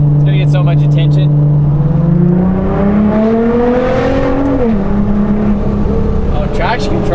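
A Nissan R35 GT-R accelerates with its engine tone rising steadily from inside the cabin, then dropping briefly as it shifts before climbing again. It is loud and continuous, with people talking over it.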